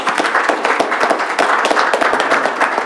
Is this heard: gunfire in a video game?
no